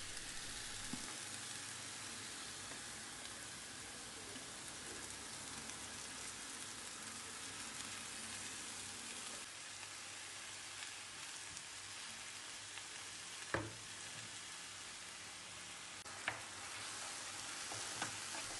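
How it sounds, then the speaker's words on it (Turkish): Diced onions sauté in a quarter cup of oil in a pan over high heat, giving a steady, dense sizzle throughout, with occasional sharp clicks of a wooden spoon stirring and no talk. "Soğanları yüksek ateşte şimdi soteleyeceğim."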